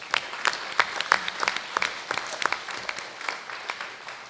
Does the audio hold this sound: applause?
yes